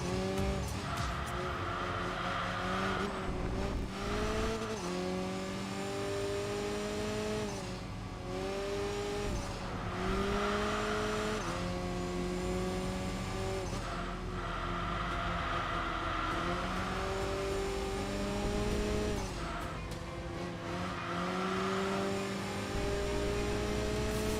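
A Saab race car in Enthusia Professional Racing howls through repeated rev climbs and gear shifts, its engine note rising and dropping in cycles with bursts of tire squeal through the corners.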